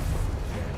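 An explosive Confringo spell blast in the Hogwarts Legacy video game lands as a short, crunching burst with a thick low rumble, brief and steady throughout.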